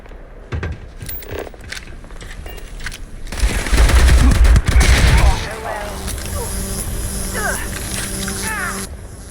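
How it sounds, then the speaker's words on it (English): Rapid bursts of Zapper weapon fire in the Starfield video game, dense crackling shots swelling loud in the middle, then fading into a steady hum with sparse electronic blips as the combat settles. "I'm going to try the Zapper as well and just see what that does"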